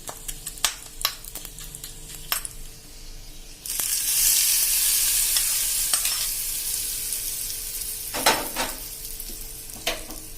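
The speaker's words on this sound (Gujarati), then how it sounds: "અને હવે આપણે આ વઘાર આપણે ચટણી માથે રેડી દેશું." Hot tempering oil with dried chilli and curry leaves is poured onto chutney, setting off a sudden loud hissing sizzle that slowly fades, with light spoon taps and clinks before and after.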